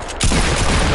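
A burst of video game hand cannon fire hits suddenly and loudly, a dense rapid volley that fills the short moment with no talking.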